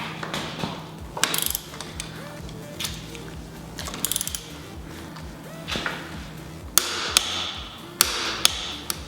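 A torque wrench tightens a rear shock absorber bolt to 80 Nm, producing a run of sharp ratcheting clicks and metallic taps in irregular bursts, fairly close, with a low steady hum underneath.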